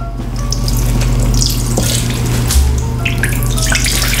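Crushed pineapple wrung out in paper towels over a bowl, juice streaming and splashing steadily and fairly loud, with a low hum running underneath throughout.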